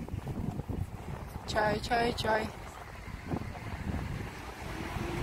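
Wind blowing outdoors on a seaside promenade, a steady low rumble of gusts buffeting the microphone throughout, with a voice speaking briefly over it.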